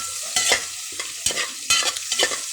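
Native chicken pieces sizzle in a hot pan for tinola while being stirred, with scraping strokes at a steady rhythm under the continuous close-up frying hiss.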